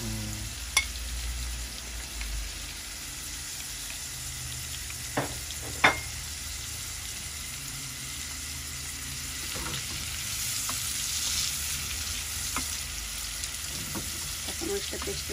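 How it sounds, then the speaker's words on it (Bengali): Onions and green chillies fry in hot oil with a steady close sizzle throughout, broken by a few sharp clinks of a stirring spoon against the pan and no speech. "পেঁয়াজ বোনার জন্য পেঁয়াজ দিয়ে দিতেছি, কাঁচামরিচ একবারে দিয়ে দিতেছি।"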